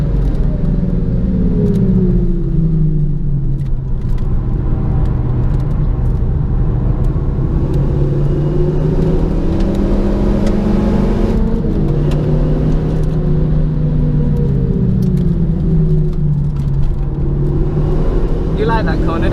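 A race car on rubber-gummed tires at Zandvoort roars and revs loudly and continuously, pitch rising and falling through gear changes, with a constant rumble close to the listener.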